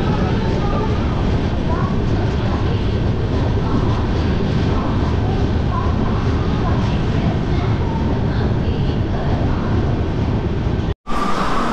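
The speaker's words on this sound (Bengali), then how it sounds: "আমাদের ট্রেন এসে পৌঁছেছে ভুবনেশ্বরের কটক রেলওয়ে স্টেশনে" A passenger train pulls into Cuttack railway station, a loud, steady rumble and rolling clatter of wheels on rails that fills the whole stretch before cutting out abruptly near the end.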